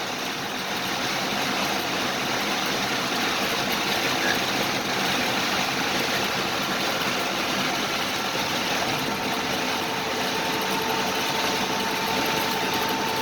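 The engine of a 1941 Dodge WC truck drones steadily throughout a ride out to a lake, a loud continuous mechanical hum with road rumble and no talking.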